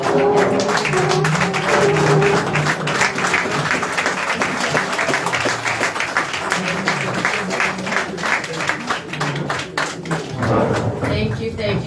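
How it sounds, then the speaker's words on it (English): Sustained applause from a large crowd, a steady wash of clapping that carries on for several seconds before slowly thinning out. "give a round of applause for the good work to the Minister."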